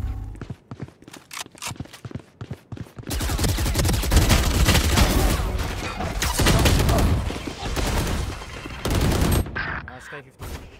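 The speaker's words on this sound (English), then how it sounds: "Someone shoot it up." Dense bursts of automatic gunfire in a shooter video game, loud and sustained for several seconds after scattered single shots and footsteps, with players' voice chat faintly under it.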